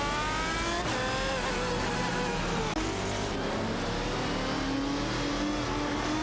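Race cars in a racing video game, including a Lamborghini Murcielago RGT, roar continuously with rising and falling engine pitch as they accelerate and shift, loud and unbroken throughout.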